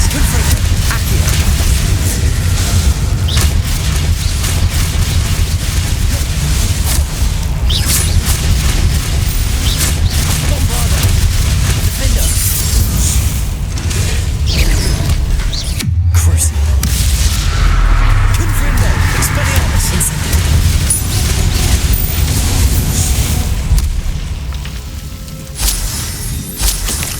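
Booming spell explosions and bursts of combat in Hogwarts Legacy, loud and nearly continuous across a long fight, with a player's voice shouting spell names over the blasts.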